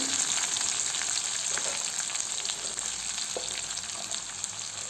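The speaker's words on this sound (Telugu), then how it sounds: "ఇది కూడా బాగా బ్రౌనిష్ కలర్ వచ్చేంతవరకు దీన్ని బాగా ఫ్రై చేసుకుందాం." Onion pieces fry in oil in a pan for tomato pulihora, a steady close sizzle with faint crackles and an occasional stir, and no one speaking.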